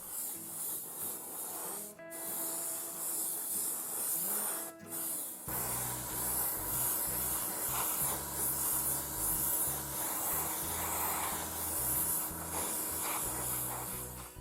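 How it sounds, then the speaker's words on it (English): An airbrush sprays light coats of hairspray onto a 1/48 Airfix Ju-87B-1 Stuka model kit, giving a steady, close, loud hiss that runs almost unbroken, with two very brief dips early on. "I now use my airbrush to apply a couple of very light layers of the hairspray"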